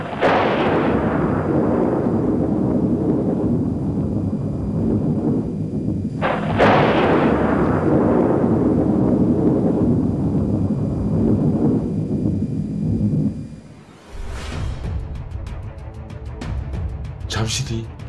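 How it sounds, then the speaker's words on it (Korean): Thunder rumbles and cracks over heavy rain as a story sound effect, dense loud rolling booms filling the scene for about thirteen seconds before a sharper crash and steadier downpour take over. "갑자기 천둥 번개가 몰아치고 쏘락비가 들이칩니다"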